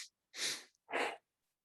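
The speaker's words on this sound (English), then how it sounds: "okay, 2 sniffs in and a deep breath out." Two quick sniffs in followed by a long deep exhale, done as a breathing exercise, close and clear with silence around them.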